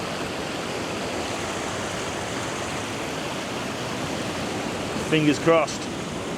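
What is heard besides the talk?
ocean waves breaking on the beach at sunrise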